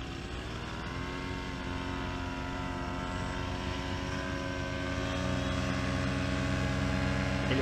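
A paratrike's propeller engine running at takeoff in Florida, a steady loud droning hum with a harmonic whine that rises in pitch as the engine speeds up toward the end.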